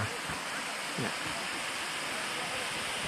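A waterfall on a rainy-season trip near Phu Chi Fa in Chiang Rai, a constant loud rushing roar of falling water that fills the scene, with a faint voice briefly underneath.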